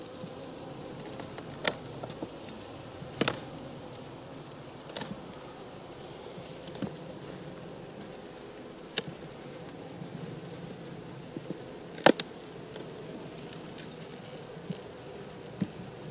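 Honeybees buzz around a hive during a September check of a Miniplus colony, making a steady, low outdoor hum with faint scattered ticks and knocks and no voices.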